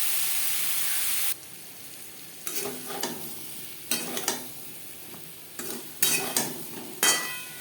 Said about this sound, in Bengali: পটল হালকা করে ভেজে নেব।